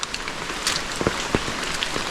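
Heavy monsoon rain pours down outdoors, a dense steady hiss of drops striking surfaces with scattered louder pattering hits, continuous and close.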